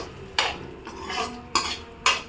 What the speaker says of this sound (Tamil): இப்போ நல்லா பூண்டை நல்லா வறுத்துடணும்